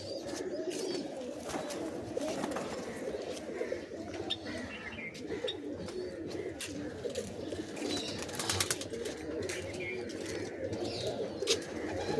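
Pigeons at a house loft coo steadily in a low, continuous murmur throughout, mixed with background chatter and faint voices.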